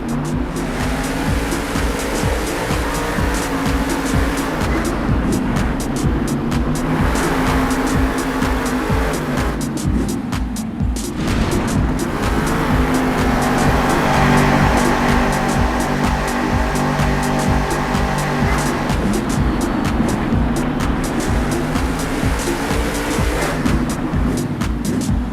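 Monster Jam trucks, Ice Cream Man among them, race side by side with a heavy, unbroken engine roar, repeated revving swells and squealing tires, loud and close throughout with no talking.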